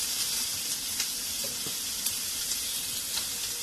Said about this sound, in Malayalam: സവാള നന്നായിട്ട് വഴറ്റി തന്നെ വേണം കേട്ടോ